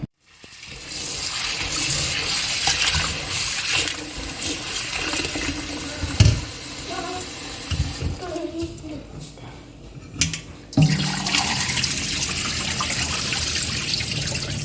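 Water runs and splashes steadily while beans are washed in a kitchen pot, with a gush and clatter partway through and a few sharper knocks near the end.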